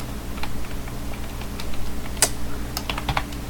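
Quick, light keystrokes on a computer keyboard typing a file name, irregular taps over a low steady hum, with a couple of sharper key clicks near the end.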